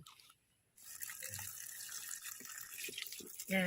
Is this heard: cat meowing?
no